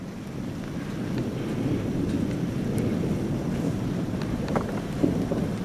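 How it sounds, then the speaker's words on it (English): A low, continuous rumble of thunder over Phoenix rolls on without a break, steady and fairly quiet with a faint crackle near the end. "Just a constant thunder."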